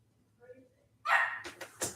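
A dog barks a few times from another room, a loud burst followed by two or three shorter sharp barks, with faint quiet sounds before it.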